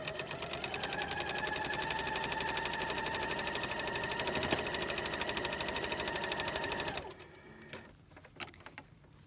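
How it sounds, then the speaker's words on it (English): A sewing machine stitches small crumb-quilt fabric pieces together, a fast steady mechanical rattle that runs for about seven seconds, then stops, leaving a few faint clicks and handling sounds. "So I'm literally taking some of the crumbs and sewing them together"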